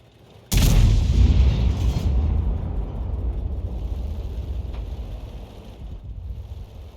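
An artillery gun fires in a tank battle video game: one heavy, loud boom, then a long rumbling tail that slowly fades.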